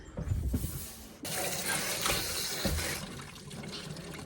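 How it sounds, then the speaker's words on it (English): Running water rinses out a rock tumbler barrel after a week of tumbling in 80 grit, a steady splashing rush that surges louder partway through, close and continuous with no talking. "it's time to rinse out tumbler number 5"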